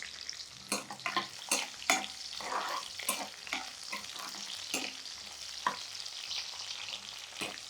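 Plenty of garlic frying in oil for a dried prawn curry with telagapindi: a close, steady sizzle with repeated rhythmic spatula taps and scrapes against the pan, and no talking.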